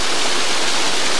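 A waterfall pours in a steady, loud, continuous rush of white noise, heard close and alone with no voices.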